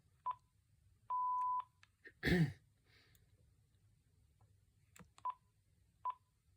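Short DTMF keypad tones from a Uniden TRU9485 cordless phone dialing a speed-dial number: several brief beeps, one held longer, then a burst of quick tones, clear over a low background hum with a short breathy noise in the middle.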